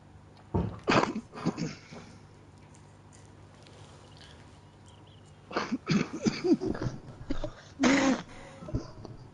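A person sneezes loudly up close, amid several short bursts of throat clearing and coughing separated by quieter pauses in an indoor room.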